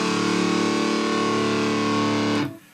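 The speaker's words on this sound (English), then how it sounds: "That, in a nutshell, is an inverted power chord." A single inverted power chord struck on a heavily distorted electric guitar, ringing thick and sustained at steady loudness for over two seconds before being cut off abruptly.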